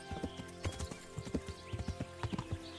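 Horse hooves clip-clop in Kingdom Come: Deliverance, a quick, uneven run of soft thuds at moderate distance over a faint game ambience.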